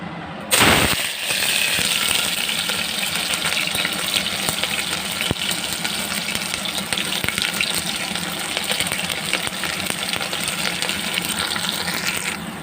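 Onions and green chilies dropped into plenty of hot oil for chicken curry, a loud sudden burst of sizzling that settles into a continuous crackling fry for the rest of the clip.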